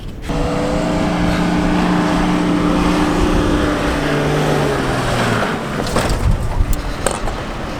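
A car driving across the Sahara desert roars at a steady engine pitch that drops away, followed by rattling, bumping and thuds as it jolts over rough ground, loud and close, without speech.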